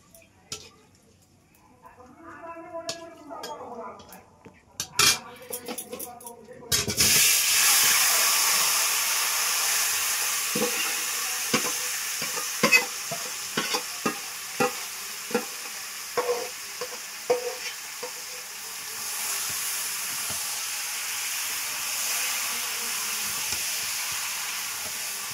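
Meat goes into a hot pan with garam masala, breaking into loud sizzling and frying hiss, then repeated scraping and stirring knocks of a spatula over steady high spitting; a voice talks briefly near the start.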